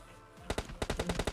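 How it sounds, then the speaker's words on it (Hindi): Gunfire in the mobile battle royale game PUBG Mobile Lite, a rapid burst of about ten sharp automatic shots after a quiet start, loud and close. "भाई साइड से गोलियां पड़नी चालू हो गई"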